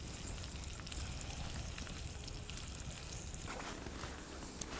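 A steady, close sizzle of food frying in a pan outdoors in a winter forest, continuous hiss and crackle with no voices.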